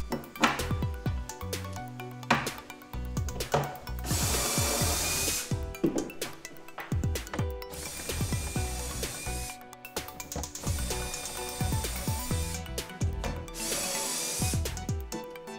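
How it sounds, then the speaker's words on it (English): A drill bores shelf pin holes through a Kreg Shelf Pin Jig for a dual workstation desk, in three short bursts over a steady musical backing. "After the holes are drilled, you just put these little shelf pins in"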